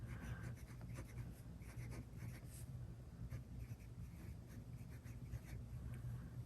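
Fountain pen nib scratching steadily across paper, a Tornado Retro with a medium nib laying down thick lines, soft continuous scritching close to the microphone with no talk.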